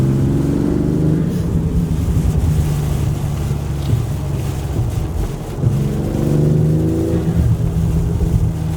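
BMW X3 M40i SUV fitted with an MST intake, engine and exhaust droning steadily with rising revs and some wind noise; distinct crackles are not clearly picked out.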